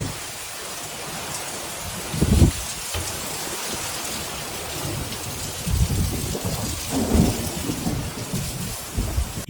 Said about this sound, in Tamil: இந்த ஸ்டார்ம் கிராஸ் பண்ண உடனேவும் பயங்கரமா மழை பெய்யும்.